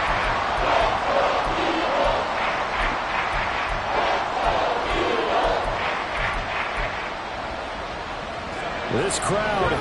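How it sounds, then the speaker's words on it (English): A stadium crowd roars in a football video game, Dallas Cowboys at Philadelphia Eagles, on third and long: a loud continuous swelling roar lasting throughout, with a brief dip near the end. "This crowd turning up the decibel level."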